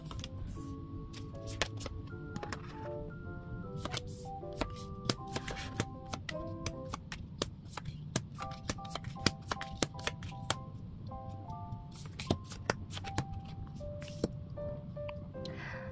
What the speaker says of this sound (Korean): 그럼 카드 오픈해 보도록 하겠습니다.